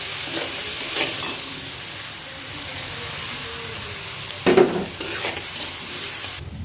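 Tengra fish with eggplant and potato sizzles and hisses steadily in a hot pan, with stirring scrapes and a louder burst of spattering near the end, close by and without speech.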